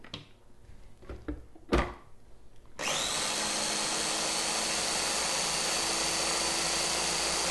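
A blender starts up after a few knocks and clatters and roars steadily as it chops mango, avocado, cilantro and vinegar into a coarse salsa puree, loud and continuous with no talk.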